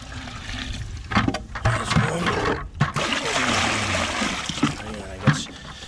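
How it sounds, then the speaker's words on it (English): Water dumped from a container into a septic distribution box, splashing and gurgling with uneven surges and trickles at close range, while someone talks over it. "take your water, dump it right on in"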